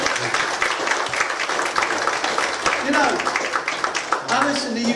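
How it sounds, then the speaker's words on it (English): A church congregation claps and applauds together in a steady, full burst of handclaps that fills the room, with voices talking and calling out over the clapping throughout. "Give the Lord a big hand clap,"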